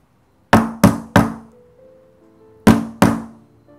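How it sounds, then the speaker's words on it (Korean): A fist pounding on an apartment door: three heavy thuds in quick succession, a pause, then two more, each loud and close with a short booming decay. "그래서 그는 이번엔 주먹으로 문을 두드리기 시작했다."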